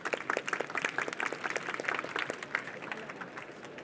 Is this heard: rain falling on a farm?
no